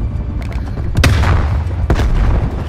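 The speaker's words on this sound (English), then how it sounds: "I got a war machine. Oh my, that's a grenade launcher, isn't it?" Grenade launcher blasts from the War Machine killstreak in Call of Duty: Black Ops Cold War, Domination mode: two sharp, loud booms about a second apart over a dense rumbling battle din.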